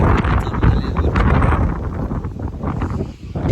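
Strong wind up high buffets the microphone in loud, continuous gusts as heavy rain sets in, with rumbling low noise throughout, no voices heard.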